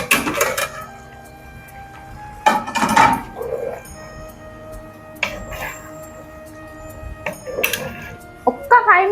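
A spoon clatters against a metal pot while boiled eggs are stirred into meal maker curry, giving several sharp scraping knocks in short bursts between quieter stretches, close by with a voice speaking in places.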